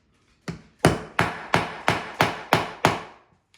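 A small rivet is hammered to mushroom its end on an old vehicle part: seven sharp metallic blows in a steady rhythm, close and distinct, with no talk.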